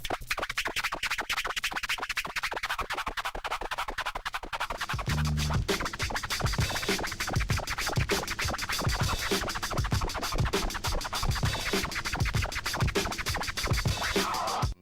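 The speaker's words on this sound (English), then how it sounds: "It's like a one click forward and one click back, like with the fader." Fast, rhythmic turntable flare scratching, one click forward and one back with the fader, over a thumping beat, with rapid choppy cuts of a record sample repeating continuously and loudly throughout.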